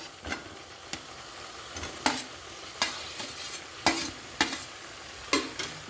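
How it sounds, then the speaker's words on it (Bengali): Cauliflower and potato being stirred with spices and yogurt in a pan, a steady low sizzle broken by regular, sharp scraping strokes of the spoon, close and without talk. "দিয়ে খুব ভালো করে ফুলকপি আর আলুর সঙ্গে মশলাটাকে মিশিয়ে নিতে হবে"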